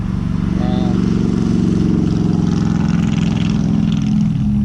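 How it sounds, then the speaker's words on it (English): Steady road traffic rumble and passing engines on the edge of a road beside a yard in Georgia, a loud continuous low drone with a brief voice fragment early on. "Sorry about the noise there on the edge of this road."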